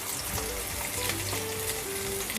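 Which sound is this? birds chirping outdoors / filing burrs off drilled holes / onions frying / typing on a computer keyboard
onions frying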